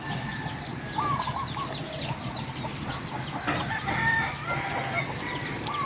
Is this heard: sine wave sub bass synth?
no